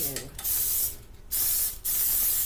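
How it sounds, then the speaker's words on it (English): Baking spray hissing onto a cake pan in a kitchen, three short sharp aerosol bursts separated by brief pauses. "spray this pan down with baking spray"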